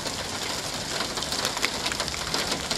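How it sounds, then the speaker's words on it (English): Hail drops onto a car in Arizona as a dense, steady patter of hard ticks and taps on the bodywork, loud and close, with no voices. "That is hail dropping on this car right here."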